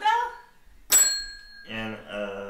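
A single bright bell ding rings out sharply between bursts of nearby talking, its clear tone lingering briefly before voices resume.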